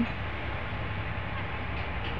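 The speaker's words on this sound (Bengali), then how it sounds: "রাজশাহী থেকে ছেড়ে আসা Madhumati express train non stop Dhaka ঢুকে যাচ্ছে" The Madhumati Express, a non-stop train from Rajshahi, rolls past heading into Dhaka, producing a steady rumbling roar of wheels and carriages that stays constant and fairly close throughout.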